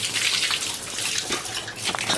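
Water splashes and runs steadily while a container is washed by hand, a close, continuous wet rush with small sloshing variations throughout.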